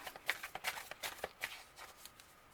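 Tarot cards being shuffled and pulled, a quick run of crisp riffling snaps and soft card slides at close range, fairly quiet and irregular, with no voices.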